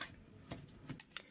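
Tarot cards are shuffled by hand in a few quick, soft riffles and snaps, close by and fairly quiet.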